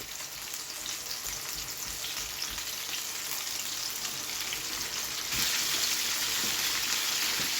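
Flour-coated chicken pieces dropped into very hot oil for crispy fried chicken, producing a loud continuous frying hiss that swells brighter partway through as more pieces hit the oil, close up with no talk.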